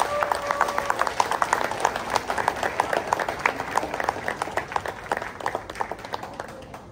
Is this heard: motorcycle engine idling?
no